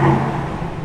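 A warm Aston Martin DBX 4.0 V8 rising briefly to about 3,000 rpm, a close, steady low engine rumble lasting under a second with no speech.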